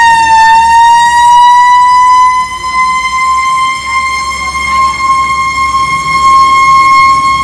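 Fire engine siren wailing continuously at an emergency response to a house fire in Bellavista, Santiago, a loud rising and falling tone held throughout with traffic rumble underneath.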